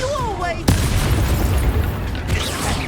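A fire spell, Incendio, cast in the video game Hogwarts Legacy lands as a sudden loud whooshing burst, followed by a sustained roaring crackle amid game effects.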